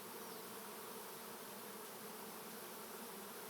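A swarm of honeybees buzzes overhead during a swarm capture, a faint but continuous, even hum with no speech, filling the clip from start to finish.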